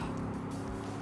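A FedEx delivery truck rushes past on a road, a loud steady engine roar and tire rumble close by with no pause, filling the whole moment.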